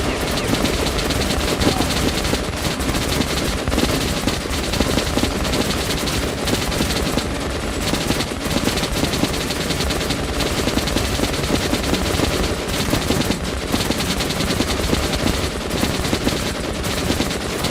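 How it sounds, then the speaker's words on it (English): Sustained, dense rapid-fire burst of a Gatling gun in the video game Metro: Last Light, loud and continuous with relentless mechanical chatter throughout, no pauses. "This is our one opportunity to use the Gatling gun."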